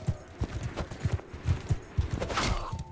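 Horse hooves clip-clop in a steady walking rhythm in a medieval campaign video game, close and fairly loud, with brief other game noise late on.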